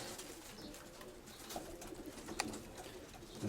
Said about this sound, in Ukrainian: Два голубеньонка побачив, більше начебто не бачу.